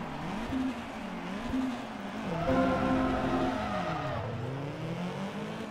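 Race car engine in the video game Forza Motorsport 2, a steady loud drone with rising and falling pitch as the car shifts and accelerates, heard alone without talk.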